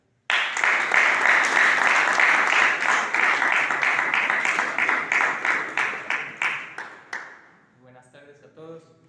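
A lecture audience gives a strong round of applause to welcome a speaker, the dense clapping starting abruptly and loud, then thinning into scattered claps before fading as a voice begins to speak.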